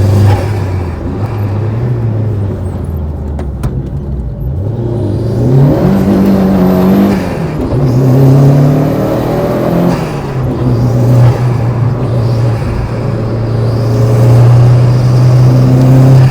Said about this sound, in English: That turbo. Yeah, the turbo sounds very unique.